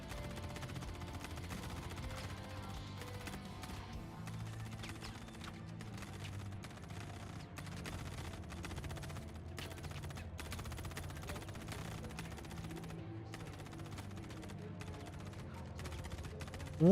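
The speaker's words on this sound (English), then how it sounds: "I don't want to know why I hear gunfire in" Distant rapid gunfire in the video game Star Citizen crackles continuously in sharp scattered bursts, faint and steady over a low background rumble.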